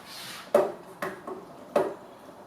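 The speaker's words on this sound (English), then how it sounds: "And now at this stage, I can add my pasta." Pasta being tipped into a pan of sauce for lobster mac n cheese, heard as three or four distinct clattering knocks of metal and utensil against the pan, close, over a quiet background hiss.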